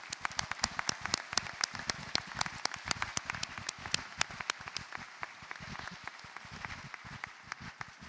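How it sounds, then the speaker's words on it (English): Sparse, crisp handclaps from a convocation audience honoring scholars, individual claps ringing out clearly at first, then thinning into a faint patter toward the end. "Let's give one big round of applause one more time for our Warm White Scholars."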